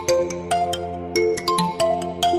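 A phone ringtone plays a loud, bright repeating melody of short tonal notes in a steady rhythm, with no voices over it.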